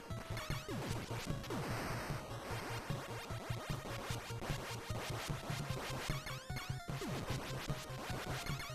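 Rapid-fire spread gun blasts from the NES game Contra, a dense, relentless stream of chiptune shots and hits layered over driving game music, loud and continuous with no talking.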